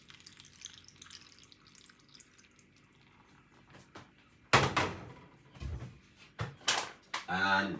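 Water is poured into a mango, spinach, ginger and lemon drink mix in a few short, loud splashing gushes after a quiet stretch.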